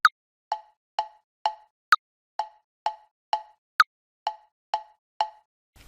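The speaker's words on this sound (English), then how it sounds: "Notice it's emphasizing the first beat of the bar." BandLab metronome clicking steadily at about two clicks per second, the first beat of each four-beat bar sounding higher and brighter than the others, crisp and alone over silence.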